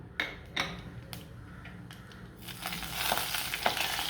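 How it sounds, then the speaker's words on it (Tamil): Mustard and cumin seeds spluttering in hot oil, starting with scattered sharp pops and swelling into a denser crackling sizzle in the last half. "கடுகு நல்லா பொரியட்டும்"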